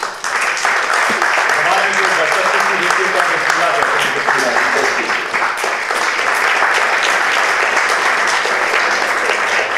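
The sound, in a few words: thunderous audience applause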